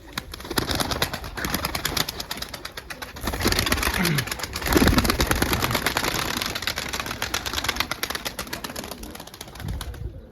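Pigeons coo softly amid a dense rooftop flock's rustling and clatter, with a steady busy background and occasional wing flaps.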